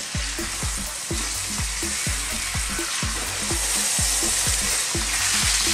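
Pork ribs fry in soy sauce in a pan with a loud, steady sizzle, while a utensil stirs and scrapes in a regular rhythm of repeated knocks, close by and with no talking.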